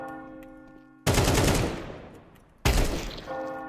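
Two loud, close bursts of Counter-Strike rifle fire from a peek-and-shoot, each a sharp crack trailing into a fading roar, the second following about a second and a half after the first, over a faint tonal hum.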